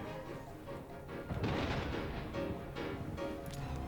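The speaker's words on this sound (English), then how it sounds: "Distant Thunder?" Low, distant rumble of thunder in the Ghost Master video game, swelling and rolling for a few seconds at moderate level with no talk over it.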